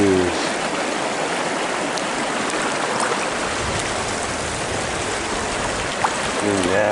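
A river flowing through Dry Creek, California gives a steady broadband wash of running water, continuous and fairly loud throughout, with faint voices now and then underneath.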